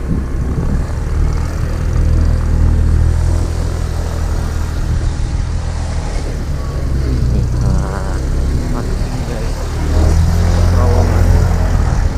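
A steady, loud engine drone with a low rumbling roar persists throughout, like a propeller plane passing overhead at Taman Langit, Bandung, swelling slightly near the end.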